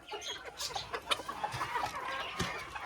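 Belgian hens and a rooster in a farm pen give soft, repeated clucks at moderate distance, scattered through a light outdoor background.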